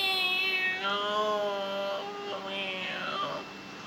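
A voice imitates a cat's meow, a drawn-out, wavering mew that rises and falls over a few seconds, fairly close.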